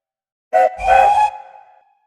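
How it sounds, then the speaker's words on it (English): Steam train whistles blow in a snowy setting: a short, sharp toot is followed by a longer, wavering whistle with a low rumble beneath it. The sound is fairly loud and trails away within about a second. "there was Duke and Falcon charging through the snow, but the whistles blowing"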